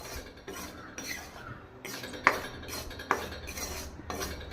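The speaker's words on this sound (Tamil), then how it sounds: "ராகி மாவை நம்ம வறுத்துக்கலாம்." Ragi flour being stirred as it dry-roasts in a pan, giving a steady scraping rustle with the sharp clinks of a metal spoon against the pan, fairly close and quiet, with no voices.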